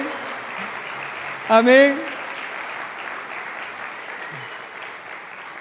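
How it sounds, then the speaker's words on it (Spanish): Congregation applauding at a Sunday morning church service, a low, steady wash of clapping beneath a brief loud spoken voice that rises partway through. "Dale un aplauso al Señor, hermano."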